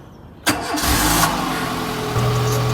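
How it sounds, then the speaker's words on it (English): A Renault Clio engine cranks and fires up abruptly, then settles into a steady, close idle, the car parked during a front brake pad change. "Now I'm going to start the car up and give the brakes a pump."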